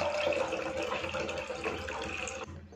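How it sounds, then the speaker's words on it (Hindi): Water streams from a tap into a small cooking pot for grapes, a steady splashing rush that keeps the same level until it cuts off near the end. "इसमें हम पानी डाल देते हैं।"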